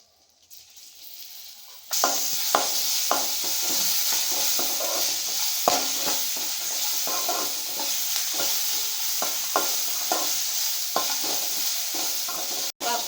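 Turmeric and ginger-garlic paste fry in hot oil with curry leaves, a loud continuous sizzle that starts suddenly and runs on with regular spatula scrapes and stirs through the pan.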